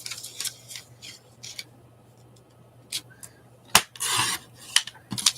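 Scissors snip stems of a houseplant in short, crisp, irregular clips, close and fairly quiet against a soft background hum, with a louder rustling burst near the end.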